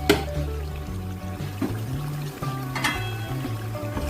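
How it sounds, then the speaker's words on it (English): Water poured into a cooking pot with gizzard while preparing yam, a steady close pour with faint clinks and kitchen noise behind it, no talking. "I have to add a little water."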